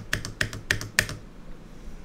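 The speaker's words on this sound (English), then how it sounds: "This is the sound of my new keyboard." A few crisp keystrokes on a new computer keyboard, four evenly spaced clicks close up in a quiet room, then near silence.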